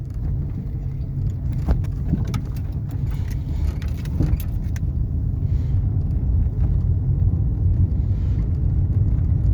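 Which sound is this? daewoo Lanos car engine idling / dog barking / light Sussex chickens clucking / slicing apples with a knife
daewoo Lanos car engine idling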